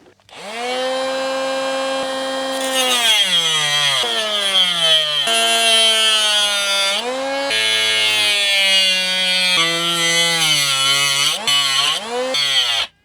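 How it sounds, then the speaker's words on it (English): A small Dremel-style rotary multi-tool grinds and cuts through a motorcycle airbox, its high whine holding steady and close, then dipping and climbing in pitch as the blade bites and eases over about thirteen seconds. "Get my little Dremel or multi-tool thing on that."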